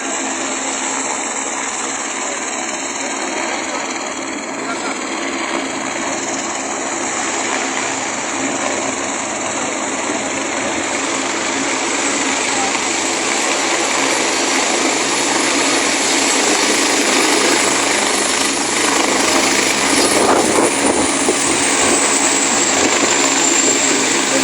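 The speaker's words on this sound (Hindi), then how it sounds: "एक और हेलीकॉप्टर आते हुए, लगातार हेलीकॉप्टर आ रहे हैं।" Helicopters arrive at Kedarnath in a steady, loud engine and rotor roar that persists throughout without letting up, with no voices heard.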